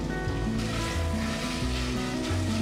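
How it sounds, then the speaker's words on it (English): Steady hissing sizzle of bacon frying in a pan, continuous and close, with faint tonal hum underneath. "sizzle sizzle on this."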